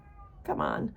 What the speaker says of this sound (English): Excuse my screaming cat.